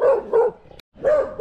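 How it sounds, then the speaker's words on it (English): A dog barks on a house porch: two loud, close barks, a short silence, then another bark, with no talking. "right next to the barking dog"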